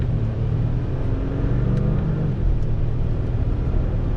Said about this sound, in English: I am going to use the paddles in manual mode and show you the acceleration of this